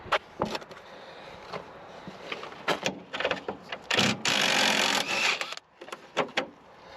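A power tool runs on two 10mm bolts on a 2005 GMC Envoy during power steering cooler work. Scattered knocks lead into a loud burst of about one and a half seconds, then a few more clanks.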